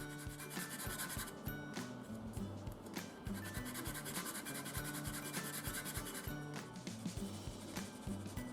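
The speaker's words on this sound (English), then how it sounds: "I now sand away the putty and smoothen out the seam line." Sandpaper rubbing over putty on the seam of a 1/48 Airfix Ju-87B-1 Stuka plastic model kit, a soft, close, quiet run of quick repeated scratchy strokes in an uneven rhythm.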